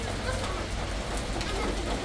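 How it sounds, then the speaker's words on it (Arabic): Heavy rain pours during a summer storm, a dense, continuous roar of drops that stays loud and steady throughout. "شوف المطر"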